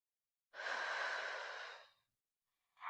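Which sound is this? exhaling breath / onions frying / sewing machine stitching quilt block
exhaling breath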